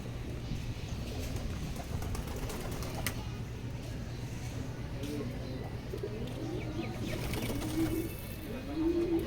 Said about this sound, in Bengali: আর মাঝখানে একটা নর কবুতর, বেশি বয়স হয় নাই।